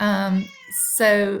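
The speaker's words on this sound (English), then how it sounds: "Sorry about my cat." A house cat meows loudly and close, two drawn-out tonal cries separated by a brief gap, with a single spoken word from a person.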